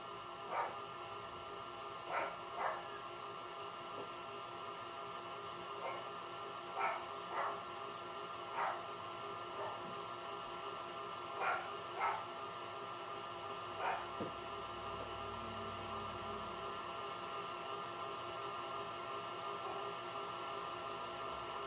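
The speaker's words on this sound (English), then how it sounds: "I apologize for the barking." A dog barks faintly in the distance, in scattered single and double barks, over a steady humming background.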